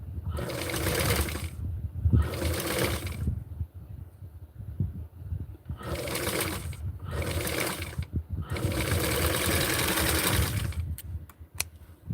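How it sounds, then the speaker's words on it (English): Sewing machine stitching a doll dress in several short runs of rapid mechanical chatter, close and fairly loud, broken by brief pauses and a few sharp clicks near the end. "So when I sew it, I'm going to sew it with the line right there."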